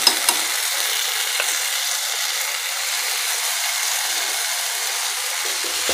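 Schezwan chutney sizzles and fries in a pan as it is stirred, giving a steady, close hiss that runs unbroken throughout, with a few light scrapes of the spoon near the start.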